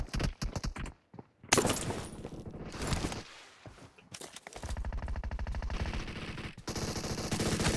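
Rapid pistol gunfire in a battle royale shooter's team deathmatch, bursts of sharp close shots separated by brief quiet gaps, then steady rattling fire toward the end, no talk.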